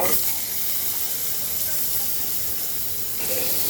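Boiled, cut potatoes fry with cumin in a small amount of oil, giving a steady, close sizzle and hiss that fills the whole stretch without a break.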